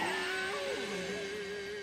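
Cat meowing in the video game Nioh, a single drawn-out, wavering yowl that rises and bends in pitch, loud and close, with no talk over it.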